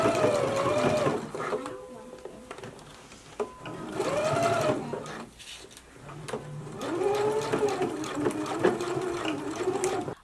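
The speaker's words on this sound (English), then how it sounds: "So just stitch right in your seam allowance at 1/8 inch," A sewing machine stitches the neck seam of an unlined jacket in several bursts of fast, close whirring, with pauses between runs and a person talking over parts of it.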